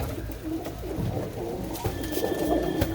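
Pet pigeons being fed grain coo softly in low, rolling calls, several birds overlapping close by against a faint background.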